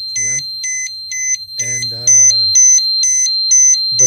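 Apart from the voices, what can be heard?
alarm from XGuard Plus V3 protection device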